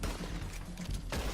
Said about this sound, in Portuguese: Vai tomar um tiro no bracinho, ó.